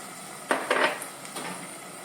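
A few quick scrapes and clinks of a utensil in a pan while green masala sautés with onion and tomato for a Karwar-style coconut chicken curry, set against a quiet background.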